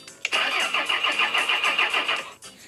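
A car engine in the Retro Garage restoration game cranks and catches, then runs with a loud, rhythmic mid-pitched chugging that pulses evenly before cutting off near the end.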